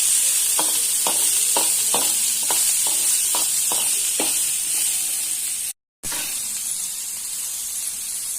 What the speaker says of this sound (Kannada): ಈರುಳ್ಳಿ ಚೆನ್ನಾಗಿ ಗೋಲ್ಡನ್ ಕಲರ್ ಬರೋವರೆಗೆ ಫ್ರೈ ಮಾಡಬೇಕು